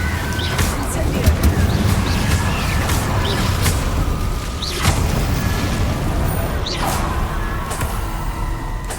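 A fire spell cast in Hogwarts Legacy produces loud whooshing fiery bursts over a dense, continuous roar of battle noise, with several sharp swishes and booms spread across the stretch.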